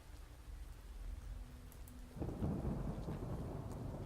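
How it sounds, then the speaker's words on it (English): A thunderstorm with rain in the adventure game Oknytt: steady rainfall, then a heavy rumble of thunder rolls in and keeps growling under the downpour. "And the thunderstorm."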